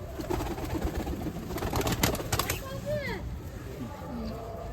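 Pigeons in a loft coo in soft rising and falling calls, with a quick burst of wing flapping early on, all under nearby speech and constant background hum.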